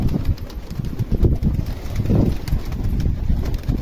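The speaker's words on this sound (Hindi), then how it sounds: "कुछ कबूतर हमारे ऊपर भी उड़ रहे हैं" Pigeons take off and fly overhead, their wings beating in soft, low, irregular flutters close by, mixed with some wind rumble.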